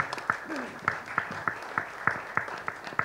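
An audience at a Spartan Sports event with Sachin Tendulkar claps in a slow, even rhythm, each clap landing as a distinct sharp hit about three times a second, with a voice briefly heard near the start.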